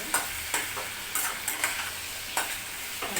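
Shrimp sizzling in hot oil in a pan for a shrimp poppy-seed dish, with a steady fry hiss and several sharp scraping strokes of a spatula stirring at irregular intervals, close and alone.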